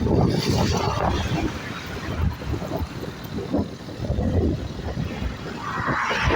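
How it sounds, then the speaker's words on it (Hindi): A Suzuki motorcycle ridden along a road: steady engine rumble mixed with heavy wind buffeting, continuous and loud throughout. "अभी मैं जा रहा हूँ रोड पे बाइक चलाते हुए।"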